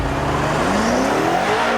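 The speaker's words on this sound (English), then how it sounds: "I cannot believe how quickly a rear-wheel drive car can get out of the hole." A rear-wheel drive car launches hard from a standstill using a left-foot brake and throttle technique, its engine note climbing steadily in a loud, close roar as it accelerates.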